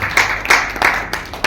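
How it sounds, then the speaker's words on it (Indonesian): A church congregation claps for Jesus at the close of a sermon, a loose run of sharp hand claps repeating steadily, close and moderately loud. "Tepuk tangan untuk Tuhan Yesus"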